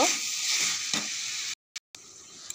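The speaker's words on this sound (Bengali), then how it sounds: "এবার আলুগুলো দিয়ে মশলা দিয়ে ভালো করে কষিয়ে নেব।" Potatoes sautéing with spices in a pan for a mixed vegetable curry, giving a dense close sizzle with a stirring scrape, then cutting to brief silence and back.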